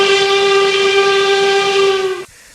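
A loud American steam whistle in the RO-Scale Sandbox game blows one long steady chime-like tone, then cuts off abruptly near the end, leaving near silence.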